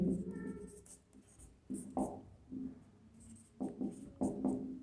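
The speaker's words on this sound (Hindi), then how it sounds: "मैं यहाँ पे वापस लिख देता हूँ, जॉन रस्किन।" A pen or marker writes on a board in a Hindi lecture setting, giving several short scratchy strokes in bursts between pauses, with a faint voice in the background.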